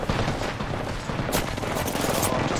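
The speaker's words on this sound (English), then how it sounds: "How are you already shooting at me?" Rapid gunfire in the battle-royale game Apex Legends, dense overlapping shots and bursts rattling continuously at loud volume for the whole moment.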